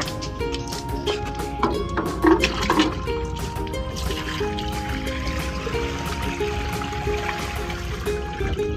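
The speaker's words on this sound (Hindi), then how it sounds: "फटाफट में साफ पानी डालते हैं।" Clean water is poured into a fish fountain being cleaned, producing a continuous splashing and gurgling stream with some irregular sloshes, fairly close, over a faint tonal hum in the background.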